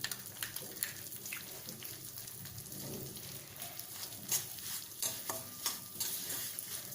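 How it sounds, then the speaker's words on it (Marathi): Fenugreek powder, turmeric and asafoetida sautéing in a pan for lemon pickle, a soft, quiet sizzle broken by repeated scraping stirs of the spoon. "थोडंसं भाजलं जायला हवं हळद हिंग।"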